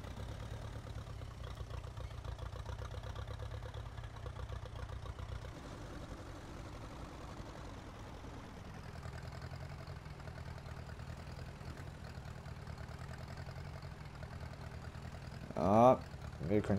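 A Ferguson tractor engine idles in Farming Simulator 19 as a steady low drone that shifts in tone partway through, with a brief louder burst near the end.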